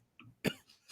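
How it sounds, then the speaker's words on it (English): A single short cough, fairly faint and close, preceded by a brief throat sound, with quiet pauses around it. "There's that fucking bitch ass cough."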